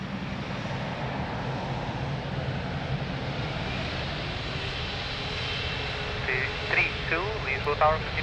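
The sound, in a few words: aircraft taking off at Lisbon Airport runway 02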